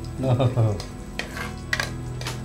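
Cashews frying in ghee in a pan: a soft, steady sizzle with light clinks of a stirring utensil. A person talks briefly at the start.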